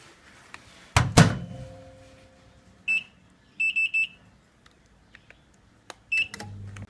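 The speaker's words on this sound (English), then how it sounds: "I'm going to microwave it" A couple of sharp thuds, then a microwave oven's single electronic beep followed by a quick run of three beeps, with another beep near the end; quiet otherwise.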